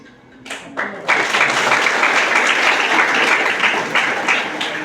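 A seated audience at a talk on parenting and reading breaks into loud, sustained applause. Scattered claps build within a second into a dense, even roar of many hands that carries on to the end.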